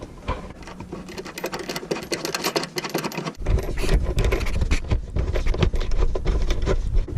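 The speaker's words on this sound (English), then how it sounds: "Start screwing them on." Rapid, irregular mechanical clicking and rattling as small bolts are screwed by hand onto a clamp during carbon canister work on a 2.0T Audi A4, close up, growing louder and denser halfway through.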